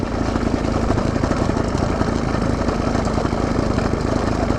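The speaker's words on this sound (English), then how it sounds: "you can hear the engine struggling right now" A 110cc engine on a motorized bicycle idles off the throttle while the bike coasts along a flat road, its loud, steady, rapid chugging close to the microphone without a break.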